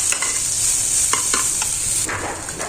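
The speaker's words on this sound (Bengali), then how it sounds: "সব কিছু হচ্ছে ভেজে নিতেছি।" Green chilies, coriander leaves and onion fry in oil in a pan for a bharta, giving a steady close sizzle broken by a few short scraping stirs.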